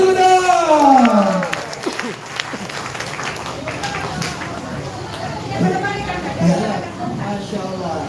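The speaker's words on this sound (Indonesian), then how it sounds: "Tepuk tangan dulu dong." Audience clapping and cheering at a communal fast-breaking gathering with app-based motorcycle taxi drivers, a steady burst of applause mixed with excited crowd voices and shouting that swells and dips over about eight seconds.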